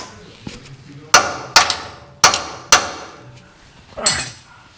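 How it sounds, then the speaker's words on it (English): A hammer taps a part into place during a Vintage Air system install in a garage, with four sharp metallic strikes in quick succession followed by one more after a short pause. "Grab my hammer, I could just tap it right in."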